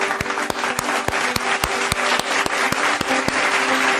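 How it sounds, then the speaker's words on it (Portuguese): Applause answers a fashion commentator's request for a round of clapping: steady, fairly close hand claps with sharp individual smacks in a loose rhythm, continuing for several seconds without talk. "Salve de palmas pra mim, por favor."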